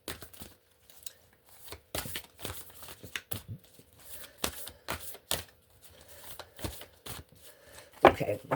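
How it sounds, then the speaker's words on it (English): Kyle Gray Gateway of Light oracle cards being shuffled by hand, giving a run of quick, irregular papery riffles and slaps close up in a quiet room, with brief pauses between bursts. "I'm shuffling the Kyle Gray Gateway of Light"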